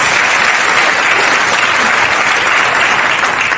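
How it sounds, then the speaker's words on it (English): Dense, steady applause from a town hall audience for Rep. Johnny Olszewski's Maryland event, loud and close, filling the whole stretch without letting up. "Can we give all of them another round of applause, please, for fighting for us and our democracy?"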